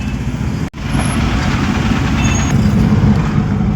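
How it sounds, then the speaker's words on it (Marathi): Trucks and cars sit in a long holiday traffic jam on the road from Nashik to Abhona. Engines rumble continuously up close, a dense low drone that cuts out for an instant. Faint high tones rise above it briefly. "पण लय मोठी ट्रॅफिक आहे बरं का"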